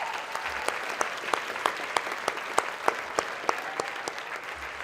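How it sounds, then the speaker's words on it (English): Continuous crowd applause at a Boys and Girls Club Youth of the Year event, a dense wash of clapping with a few sharp individual claps standing out, steady throughout with no talk. "Can we give her one more round of applause,"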